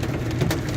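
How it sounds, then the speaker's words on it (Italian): Heavy downpour in the Borgaro Torinese area near Turin just after a violent hailstorm ends, a dense, steady hiss of rain with no voices. "Diluvio, però grandine ormai terminata."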